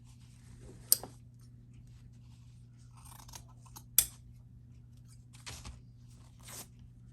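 Scissors trimming fabric for a handmade Christmas gnome, close and quiet, with two sharp snips and a few softer cuts and rustles in a still room.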